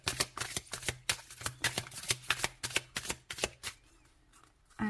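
Tarot cards are shuffled in a rapid riffling rhythm of crisp, close flicks and slaps, repeating steadily for several seconds before a brief pause.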